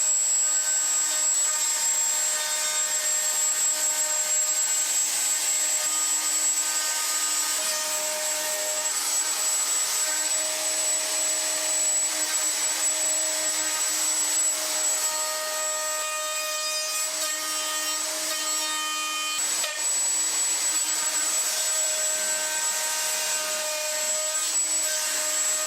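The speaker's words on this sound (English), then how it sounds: "Now it was time to start leveling the benchtops using a 20mm flathead router bit." A router fitted with a 20mm flathead bit levels wooden workbench tops, a steady high whine with a rough cutting rasp, loud and continuous throughout, with no talking.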